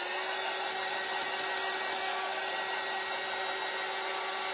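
A hair dryer blows steadily on freshly painted craft parts, a constant even whoosh with a faint whine that runs unbroken from start to finish, close and moderately quiet.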